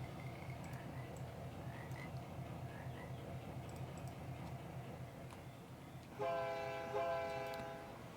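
Locomotive in a railroad operations video game: a low steady engine rumble runs throughout, then a loud chime-like train horn sounds in two blasts near the end.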